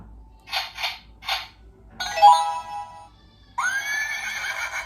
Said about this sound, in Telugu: గుర్రం నుంచి వచ్చిందిరా